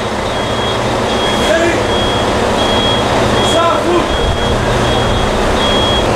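A vehicle reverses into a parking space, with faint high reversing beeps repeating under loud, steady engine and crowd noise on a ferry dock.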